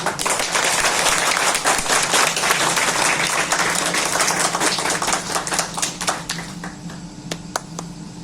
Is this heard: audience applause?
yes